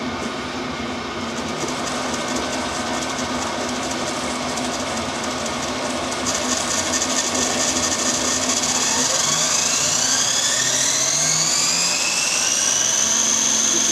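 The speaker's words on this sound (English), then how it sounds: "Start it off nice and slowly, just a little bit of heating of the motor and the bearings." A milling machine motor drones steadily with a rising whine that climbs in pitch as it spins up, continuous and fairly loud throughout.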